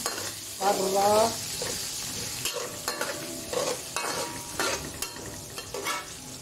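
Lumpiang sariwa filling fries briefly in hot oil, a bright sizzle under repeated stirring and scraping in the pan, with short clinks and shuffles throughout and no talk.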